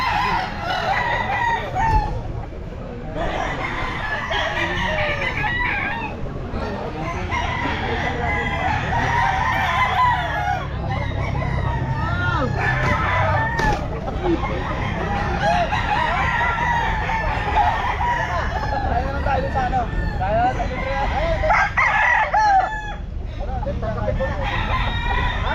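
Roosters and fowl crow and cluck at an outdoor pet market, repeated calls near and far over crowd bustle, with people talking throughout.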